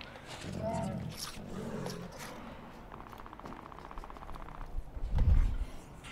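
A Prowler creature in the Apex Legends video game growls and snarls in short bursts, with a heavy thump and rumble near the end. Players talk over the sounds.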